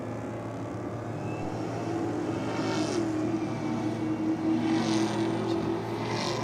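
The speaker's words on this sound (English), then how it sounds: "that supercharger in the track mics" Supercharged race car picked up by trackside microphones, a steady droning supercharger whine over rough engine roar at moderate distance, holding for several seconds with slight rises in pitch.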